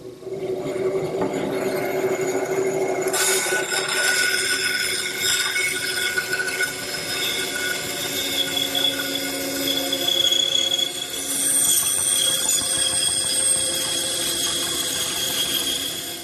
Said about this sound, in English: it's off to the bandsaw to rough it out